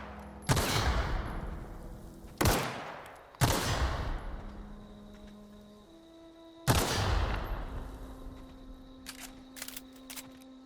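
Heavy gunfire in the game The Outer Worlds comes in four loud, sharp bursts, each decaying into a rumbling tail, with a few quick clicks and game tones between them.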